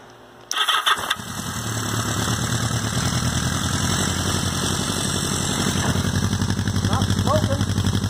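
A 1980 Yamaha XS1100 motorcycle engine cranks and fires after half a second of quiet, then settles into a loud, steady, close idle with an even mechanical rumble.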